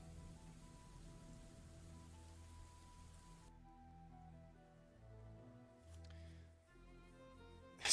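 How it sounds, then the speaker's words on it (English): Soft, steady rain patters in the Dwarf Fortress video game. The sound is faint and continuous and sits under quiet game music, with no voices. "It's been raining."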